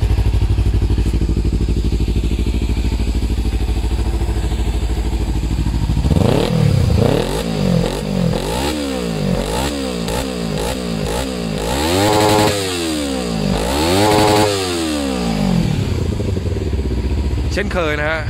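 Kawasaki Z300 motorcycle engine revved hard, first holding a loud high idle, then repeatedly climbing and snapping back off the rev limiter in rapid sawtooth surges, close and loud, with someone talking over it.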